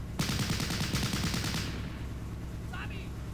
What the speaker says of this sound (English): And we get another shot with the Lewis gun.